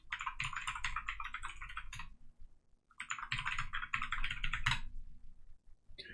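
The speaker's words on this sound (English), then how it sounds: "You just have to usually type in your local password." Rapid keystrokes on a computer keyboard as a local password is typed during a software install, heard as two dense, close bursts of clicking separated by a short pause, with no talk.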